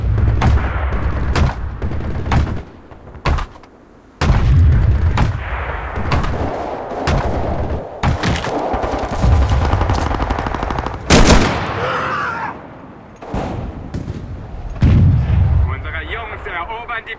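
Loud, rapid bursts of gunfire mix with heavy artillery booms, coming in irregular volleys with brief gaps between them, in the video game Enlisted, Hurtgen Forest invasion attack.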